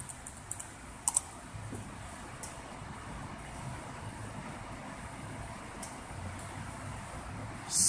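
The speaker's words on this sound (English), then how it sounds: "Type in the password supplied." Typing on the keyboard of an Apple A1286 MacBook, a few quick clicks early on over a steady background hum, faint and with no talk.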